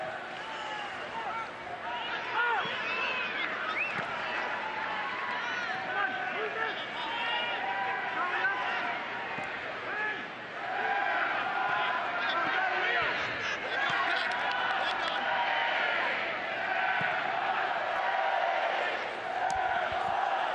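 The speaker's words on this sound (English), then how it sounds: "This crowd tonight has just been spectacular at Al Link Stadium" A large, loud crowd roars steadily at a Tampa Bay Rowdies soccer match against Louisville City FC in Al Lang Stadium, with constant cheering and chatter that swells in places.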